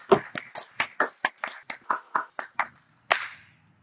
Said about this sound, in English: Stomp your feet and clap your hands.